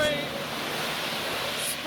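A car splashing through water on a wet road in the rain at a car meet in Japan, a broad steady rushing spray held for under two seconds, fairly loud, with voices faintly mixed in.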